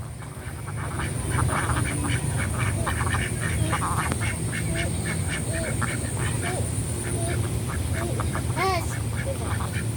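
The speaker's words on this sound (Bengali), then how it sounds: "হাঁস রেস্ট করে আর ডিম পাড়ে।" A flock of ducks calls from their resting spot in an open village field in Tangail, Bangladesh, with repeated nasal quacks scattered throughout over a constant outdoor background hum.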